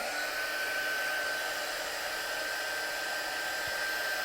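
A heat tool blows steadily to dry watercolour paint, a loud, constant airy roar with a thin whine running through it, uninterrupted from start to finish.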